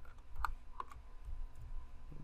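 Keys are pressed on a computer keyboard during 3D modelling work, giving a few scattered, quiet clicks close by over a low background hum, with no one talking.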